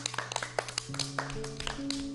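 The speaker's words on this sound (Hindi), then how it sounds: "तालियां नोमान के लिए।" Scattered hand claps from a small audience applauding a child's poem recital at a children's television programme, sparse and uneven taps over a faint steady background tone.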